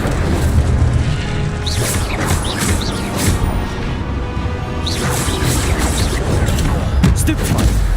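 Fire spell bursts whoosh and boom in a Hogwarts Legacy duel, loud and dense, overlapping with other spell blasts while voices call out throughout.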